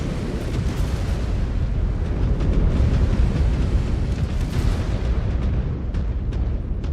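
Missile impacts in the mech combat game MechWarrior 5: Clans build into a continuous, dense rumble of overlapping blasts and crackles, loud and unbroken for about seven seconds.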